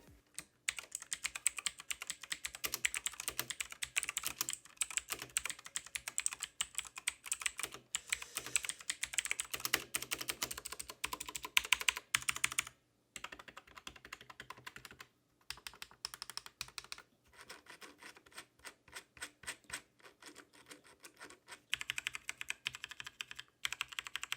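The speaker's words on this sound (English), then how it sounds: "here's just a quick sound test of how all of those 4 different switches sound" Rapid clacking of four different mechanical switches on a Redragon K580 VATA keyboard, typed in long bursts with brief pauses between them, close up with no voices.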